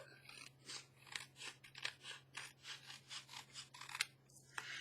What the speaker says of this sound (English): I am going to need to trim that off. And I'm going to do that now.